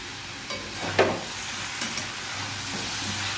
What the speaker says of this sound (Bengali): মশলা দিয়ে ভালো করে কষে নিচ্ছি